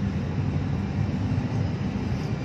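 A helicopter flying overhead gives a steady, loud droning rumble that fills the whole stretch without letup, with no voices over it.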